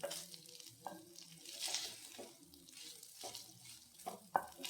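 Biryani rice for onion rice is stirred in a frying pan, giving quiet, uneven scraping and shuffling strokes over a soft sizzle, with one sharper knock near the end.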